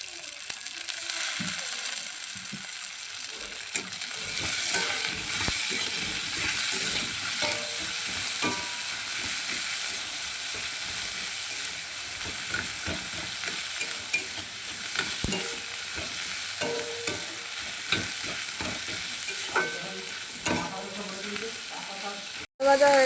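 Onions and tomatoes frying in a pan for a Bengali kachur loti dish, a steady close sizzle that holds throughout with occasional stirring clicks of a spatula and no talk over it.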